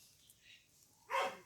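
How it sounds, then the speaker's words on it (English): A single short dog bark comes from some distance, faint against quiet background hiss, arriving near the end after a soft stretch of low ambient sound. "And that's Slim over there barking, of course"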